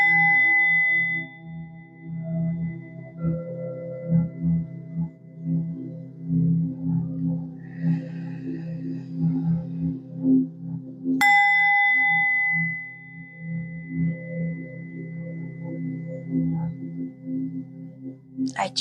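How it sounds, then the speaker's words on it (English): A gong and a singing bowl ring with long sustained tones, one struck near the start and another sharp strike around the middle, each decaying slowly over a low steady hum during a mindful wellness session. "every time that the gong happens, the bowl rings"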